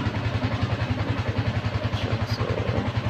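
A Yamaha Sniper 150 motorcycle engine starts automatically and settles into a steady idle, its close, rapid putter pulsing evenly throughout with no voices.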